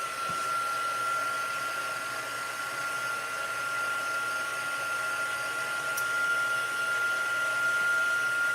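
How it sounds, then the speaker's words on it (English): A heat tool blows steadily over a paper craft project, a constant airy whir with a thin high whine, close and even throughout with no speech. "Now I'm going to take my heat tool and I'm going to run it over this until it gets a little dry"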